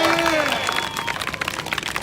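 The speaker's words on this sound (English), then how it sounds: "can I give a round of applause for the word education" A rally crowd applauds in a dense, steady wash of clapping with a few cheers mixed in, loud and close throughout the short burst.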